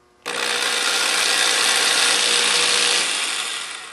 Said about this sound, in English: then just drill easily through